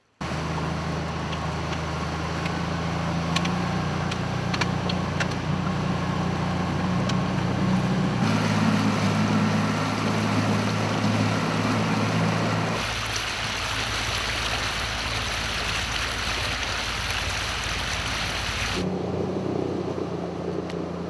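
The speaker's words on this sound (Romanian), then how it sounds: "Bărcile cu motor din dotarea ISU sunt utilizate pentru salvarea victimelor" Fire and rescue service motorboat running on the Mureș river at Târgu Mureș, a loud, continuous engine drone mixed with rushing water and wake noise, shifting in tone across its length.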